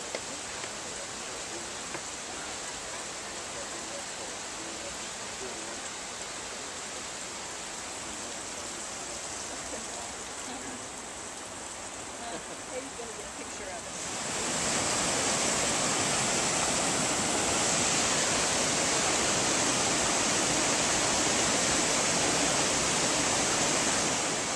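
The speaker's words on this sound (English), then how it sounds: "Be careful, there's water falling." Pearson's Falls in North Carolina rushes as a steady broadband roar that jumps noticeably louder and closer about halfway through, with no voices heard.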